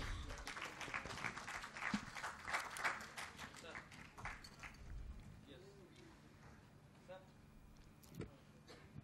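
Applause from a conference audience rises during an awards moment, dense clapping that is strongest early and thins out later, with talking mixed in.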